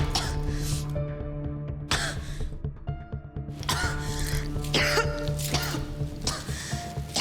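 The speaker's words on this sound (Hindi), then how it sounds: "अरे बंद करे खांसी की आवाज" Repeated harsh coughing and throat clearing from a woman who is unwell, coming in several close bursts across the clip with no words spoken.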